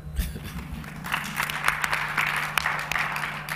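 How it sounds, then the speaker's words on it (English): An audience at a conference on Africa's digital transformation applauds, the clapping swelling after a second and continuing at moderate loudness over a steady low hum. "please clap for Rwanda"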